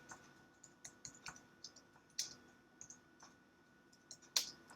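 Someone types on a computer keyboard during a live lesson, with quiet, irregular key clicks and occasional louder taps, close by in a quiet room.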